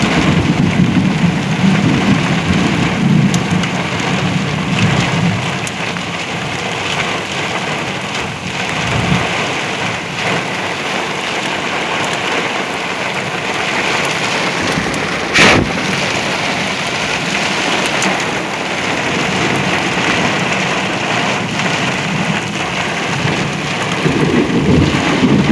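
Heavy rain pours steadily during a sudden summer thunderstorm, with gusting wind and a sharp, close thunder crack midway through a constant dense roar.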